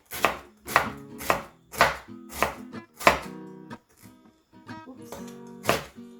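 Galangal being chopped into slices on a cutting board in a kitchen, with about eight sharp, close knife strikes in an uneven rhythm and brief quiet gaps between them.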